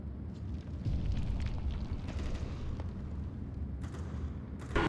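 A grenade blast in the video game Counter-Strike: Global Offensive: a loud, low, rumbling burst that rolls on for several seconds, with a sharp crack closing the clip.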